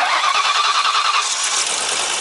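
An old car engine cranks and catches, settling into a loud, close, rough running roar that continues to the end of the clip.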